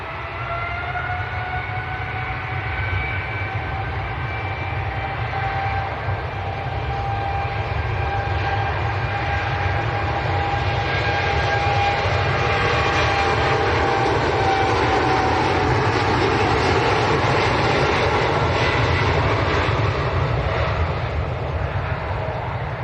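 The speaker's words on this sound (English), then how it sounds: "Gulf Air to Bahrain, 787-9 Dreamliner." A Gulf Air Boeing 787-9 Dreamliner bound for Bahrain roars steadily at Manchester Airport, a continuous jet engine whine with tonal hum, fairly close and sustained throughout with no talk.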